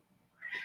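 A cat meows outdoors beyond an open window, one faint, distant meow rising at the end of a quiet moment.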